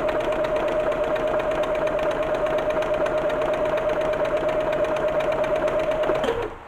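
A sewing machine stitches a buttonhole at a fast, even rate, with a steady close mechanical hum and rapid ticking that run on evenly before stopping abruptly near the end.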